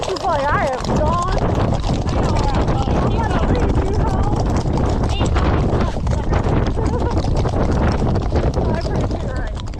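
Horse hooves clop steadily over a continuous windy, noisy outdoor background, with some movement and faint voices mixed in.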